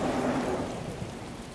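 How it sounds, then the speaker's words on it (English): Cartoon rain pours in a steady dense hiss, loud and alone without talk, easing slightly over its short length. "Oh, no, it's raining."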